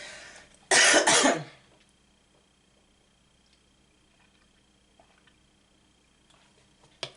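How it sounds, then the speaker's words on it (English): One loud, harsh cough close to the microphone, followed by near silence with a few faint clicks. "I wish this cough will go away."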